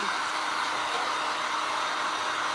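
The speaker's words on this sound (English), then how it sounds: "I'm gonna grab this heat gun and hit it with a heat gun a little bit, just to dry it a little bit." Heat gun blowing hot air over wet craft paint, a constant loud airy whoosh with a steady motor hum, close up and uninterrupted.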